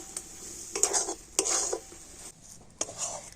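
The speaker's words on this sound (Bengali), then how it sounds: "এইভাবে নাড়াচাড়া করে তো সুন্দর একটা ডো তৈরি করে নেব" Semolina dough is stirred in a pan on the stove, with repeated scraping and knocking strokes of a utensil against the metal, close up and irregular.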